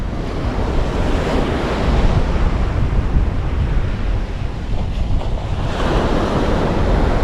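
Strong beach wind buffets a GoPro fitted with a microphone windscreen, a loud, constant roar blended with crashing surf, with no letup across the whole stretch.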